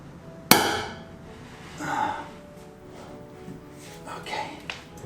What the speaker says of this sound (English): So I'm gonna try to crack it loose with the breaker bar.